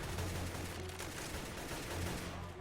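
Rapid gunfire from a first-person shooter match of CS:GO on Dust II, loud and continuous across the whole moment with dense overlapping shots.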